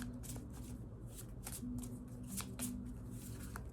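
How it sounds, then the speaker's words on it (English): A deck of tarot cards being shuffled by hand up close, a run of quick papery riffles and soft slaps in irregular bursts over a faint low hum, with no talking. "Just doing a little shuffling here to prepare non-communication."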